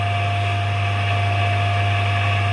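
A three-phase electric motor run with capacitors, roughly 1500 to 3000 rpm, hums steadily and loudly with a constant tonal whine, unchanging throughout with no voices.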